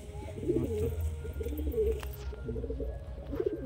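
Pigeons coo softly in a loft, a few low, throaty burbling calls repeating over a steady background hum, with no one talking.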